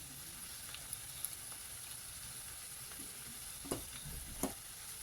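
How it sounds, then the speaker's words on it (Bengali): Tea-leaf water being stirred into a frying spice mix in a pan for ghugni: a quiet, steady sizzle with occasional light spatula clicks and scrapes, and no voices. "আমি এই মশলার মধ্যে দিলাম, ভালো করে নাড়িয়ে দিলাম"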